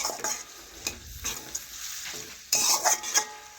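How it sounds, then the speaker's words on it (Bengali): A spoon stirs vegetables with spice masala in a frying pan, giving repeated scraping and clinking strokes over a soft sizzle, close and steady with no talking. "এইভাবে নাড়াচাড়া করে সমস্ত কিছু মশলা মিশিয়ে নেব আর একটু ভেজে নিচ্ছি"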